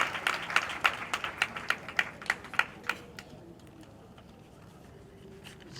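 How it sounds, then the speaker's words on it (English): Sparse applause from a small audience at a Nollywood film screening, greeting an actress with a few seconds of close, uneven hand claps that thin out and stop, leaving quiet room tone. "Please a round of applause for her."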